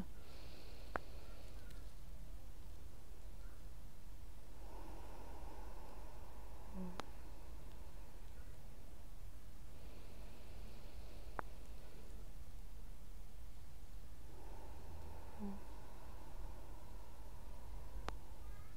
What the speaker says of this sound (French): on inspire sur 5 secondes sans faire de pause, on expire sur 5 secondes sans faire de pause